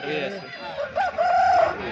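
A rooster crows in a drawn-out call that rises and holds, heard over a busy crowd at a Sunday poultry market with people chattering nearby.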